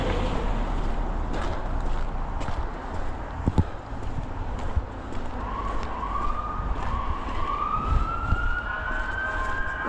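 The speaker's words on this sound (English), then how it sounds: "Ambulance went by" An ambulance siren passes on a city street, a faint wailing tone swelling in the latter half over steady traffic rumble and the footsteps and clatter of someone walking.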